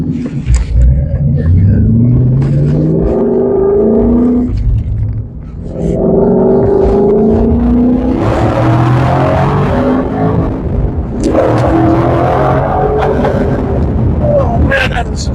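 A Jack Roush stage 3 Ford Mustang with its speed limiter removed, the engine roaring loud and close as it accelerates through rising gear pulls with brief dips between shifts, people talking over it.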